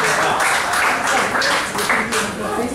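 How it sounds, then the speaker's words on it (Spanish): An audience claps at a small tango venue, a short loud patter of applause with some voices mixed in. "Y el aplauso, ¿sí?"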